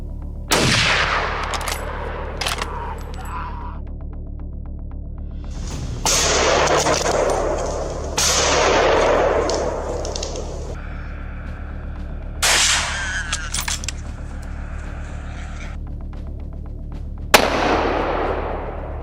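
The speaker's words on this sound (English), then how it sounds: "Two shots, fired in quick succession, brought it down just a few feet from the group." Rifle shots fired at a charging 400-pound wild boar in a dense orchard during a hound hunt, sharp loud bangs standing out among several impulsive cracks and rustling over a steady low background hum.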